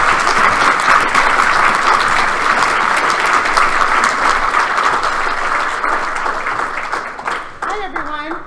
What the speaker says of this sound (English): So please give a round of applause to Alicia.